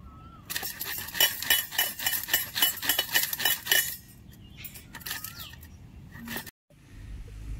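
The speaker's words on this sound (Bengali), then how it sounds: "চলো বলে আমগুলোকে কুচিয়ে নিই" A knife chops a small mango on a board in quick, steady strokes for about three seconds, then a few scattered cuts follow, close and crisp with no one talking.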